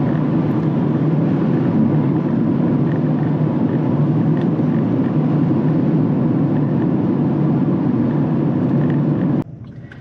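A 2024 Mazda MX-5 Miata RF Grand Touring engine droning loudly and steadily at high RPM from inside the cabin, the roar holding constant before abruptly dropping off near the end.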